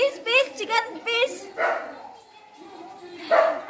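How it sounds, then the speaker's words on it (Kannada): A dog barks outside in a quick run of several close, loud barks, then pauses before one more bark near the end, with faint background noise. "ಔಟ್ ಸೈಡ್ ನಾಯಿ ಬಂದಿದೆ, ಬಗಳುತ್ತಾ ಇದ್ದಾನೆ"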